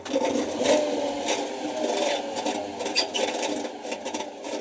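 A small electric motor with a worn bearing and worn brushes runs steadily with a rough, gritty whir and scraping rattle, close and fairly quiet.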